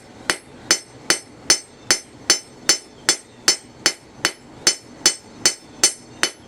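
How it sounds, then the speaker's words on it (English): Heated horseshoe nail hammered flat on an anvil in steady, evenly spaced metallic strikes, about fifteen ringing blows, close and clear with no talk. "hammer it out a bit."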